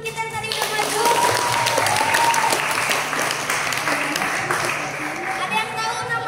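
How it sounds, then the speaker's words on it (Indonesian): A room of schoolchildren clapping for classmates who just performed, a dense, steady burst of applause that holds for several seconds, close and full, with a few young voices mixed in. "Oke, tepuk tangan dulu buat teman-teman kita yang tadi udah maju"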